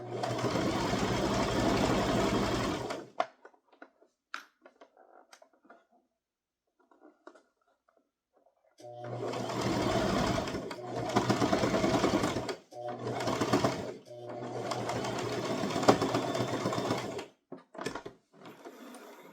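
A home sewing machine stitches a toddler crossbody purse in several bursts, a long close whirring run first, then quiet handling clicks, then three more runs separated by brief pauses.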